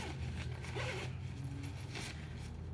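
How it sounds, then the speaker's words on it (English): A zipper is drawn along a compression packing bag for travel in one steady scratchy pull lasting a few seconds, close and fairly loud, with no talk over it. "let me zip it up"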